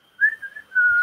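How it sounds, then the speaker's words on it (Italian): A person whistles a single sustained note, close and clear, wavering slightly and briefly dipping before holding steady again, ending abruptly after about a second. "Fischietta, sei capace a fischiare?"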